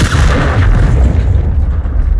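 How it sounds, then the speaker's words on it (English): A stun grenade detonating in Call of Duty Modern Warfare 2, one loud, deep, booming blast that fills the moment and rumbles away. "Throwing the stun grenade!"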